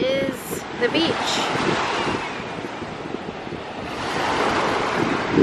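Steady roar of Caribbean surf washing onto a beach in the Dominican Republic, with gusty wind buffeting the microphone and a voice speaking briefly over it.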